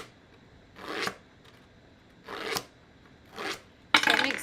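A Tim Holtz Deckle Edge Trimmer is drawn along a paper edge to distress it, giving three short raspy scraping strokes with a more sustained rough scrape at the end, close and fairly quiet, with no talking.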